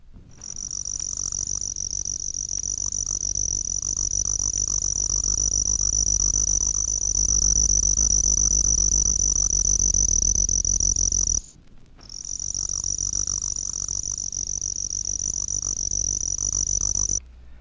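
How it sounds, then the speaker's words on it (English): Spotted ground cricket (Nemobius maculatus) from leaf litter in dry woods, giving a steady, close, high jerky trill that runs almost continuously with one brief break, over a low background rumble. "A jerky trill is produced by the spotted ground cricket, Nemobius maculatus, which also sings in leaf litter in dry woods."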